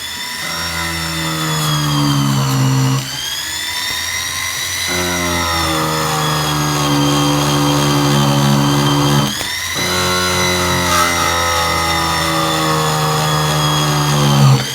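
Flex shaft pendant motor spinning a polishing tool against metal, a steady high-pitched whine with a strong low hum, dipping briefly twice as the speed changes, loud and close with no talk.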